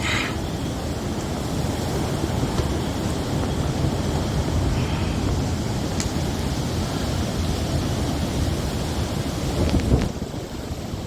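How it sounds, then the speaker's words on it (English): Strong wind roars in a continuous loud rush during a severe thunderstorm in Michigan, with a few faint crackles and thumps mixed in and no talking. "Oh my gosh, that wind."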